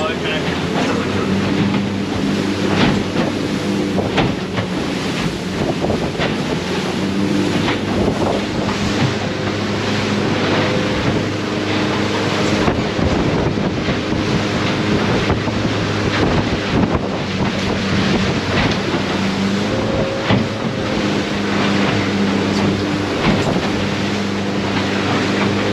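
The Barcrusher boat runs home through rough seas, with loud, constant wind buffeting the microphone, crashing waves and spray, and a steady engine drone underneath, while people talk over it.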